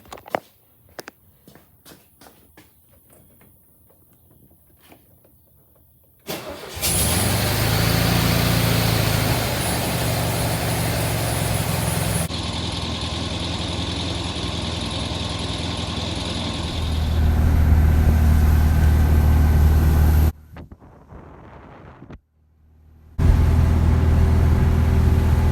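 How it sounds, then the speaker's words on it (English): A Sunbug's small engine, freshly fitted with a swapped carburetor, starts hot after a few clicks and catches, then idles loudly and steadily nearby, stopping briefly before restarting and settling into an even idle. "Let's see how it starts up hot."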